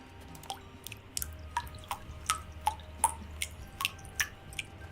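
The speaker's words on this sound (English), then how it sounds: "God, the dripping water is so loud." Water dripping in a quiet game environment, a steady series of distinct plinking drops about every half second, close and clear over a faint low hum.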